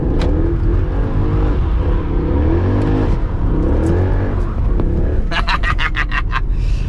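A Mercedes-AMG engine revs hard, a loud deep rumble rising and falling in repeated swells, with a quick burst of sharp ticking near the end.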